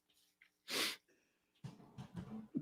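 A single quick, muffled sneeze, fairly faint, followed by low murmuring voices.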